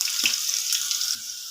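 Crushed garlic cloves drop into hot oil with browned cumin, giving a short bright crackling sizzle with a couple of soft clatters, and no talk.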